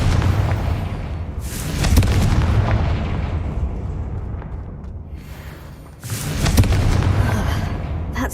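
Explosive spell blasts from Hogwarts Legacy, two loud booming detonations a few seconds apart, each with a sharp attack and a long rumbling decay, close and powerful.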